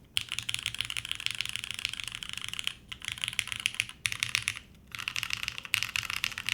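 Rapid, crisp keystrokes on a TGR Jane ME mechanical keyboard fitted with a classy keycap set, typed in steady bursts with short pauses between them and no one talking.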